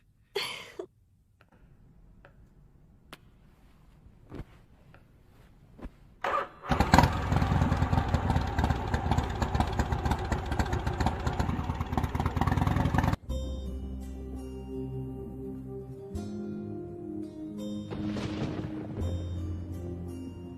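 A motor scooter engine starts up in a burst after quiet, then runs loudly for several seconds and pulls away, fading into a busy street scene with music.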